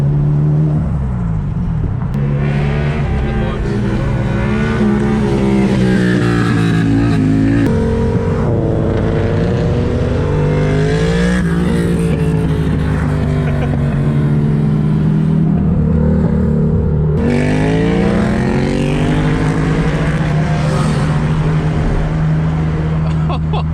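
Nissan Silvia S15 cruising among other JDM cars along Bay Street in Sydney at night, with a steady, loud engine drone that rises and falls through gear changes and revs, with occasional voices in the background.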